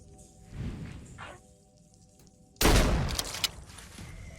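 A shotgun fires in Phoenix Point: a single loud, sudden blast with a sharp crack and rolling tail, preceded by a few softer thumps, footsteps and interface tones against a mostly quiet background.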